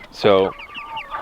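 Chickens kept in a chicken tractor give a loud, close cluck followed by softer, chattering clucks, while a voice speaks briefly.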